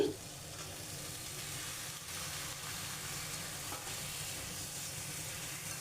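Bottle gourd pieces frying in a pan with tomato spice paste, a continuous, even sizzling hiss throughout with faint stirring movement, close and moderately quiet.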